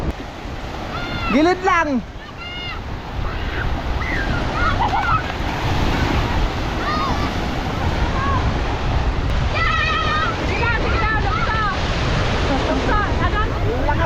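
Big ocean waves surging and crashing on a shore, a steady loud roar of surf with people talking and calling out over it nearby.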